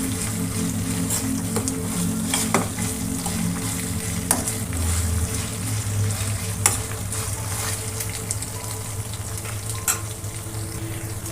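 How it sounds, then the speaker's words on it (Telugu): Ginger garlic paste frying in a pan for egg tomato curry, a continuous close sizzle with repeated scraping and clinks from a stirring spoon throughout. "కొంచెం అల్లం వెల్లుల్లి పేస్ట్ వేసుకొని కొంచెం దీన్ని ఇలా కలుపుకోవాలి"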